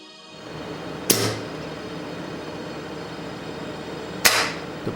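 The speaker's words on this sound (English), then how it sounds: "Seal the nozzle with your finger and pull the trigger." An ARES airsoft sniper rifle, nozzle sealed by a finger for a compression test, fires two sharp loud clicks about three seconds apart, each a crisp snap against a quiet background.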